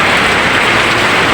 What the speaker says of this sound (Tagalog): 2 linggo na guys yung umuulan.